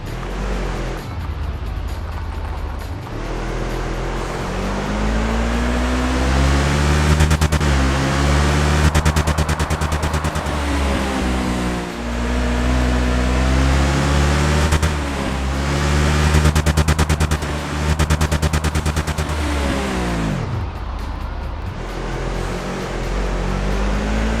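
A buggy's engine in the off-road driving game Overpass 2, droning steadily as it drives, pitch rising and falling as the engine revs up and eases off across the whole stretch, loud and continuous.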